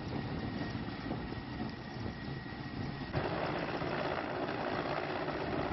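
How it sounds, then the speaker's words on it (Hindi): A helicopter landing during a prime ministerial visit to Pushkar, a continuous engine and rotor roar that swells slightly partway through, steady and fairly loud with no speech. "हेलीकॉप्टर के जरिए ये लैंडिंग करवाई जाएगी"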